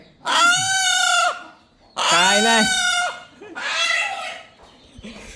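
A village rooster gives three loud, drawn-out squawking calls up close, separated by short pauses, with a voice heard faintly between them.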